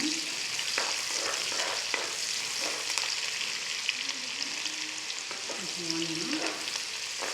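Sliced garlic and onions fry in a pan with coriander while being stirred, giving a soft, steady sizzle with occasional scraping stir sounds, close but fairly quiet.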